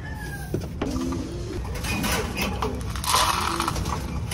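Chickens being fed, with soft clucks and coos over a rustling, crunching background of scattered feed, a steady close-up bustle with no clear voices.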